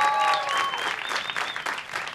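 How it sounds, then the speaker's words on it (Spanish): Audience applause for the act Sexto Sentido, a short burst of crowd clapping mixed with whistles and cheers, loud at first and then easing slightly. "Aplauso a Sexto Sentido"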